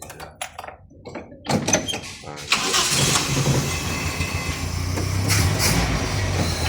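A Nissan C20 van engine cranks and catches after a few clunks, then settles into a steady, rough idle close by, with people talking around it.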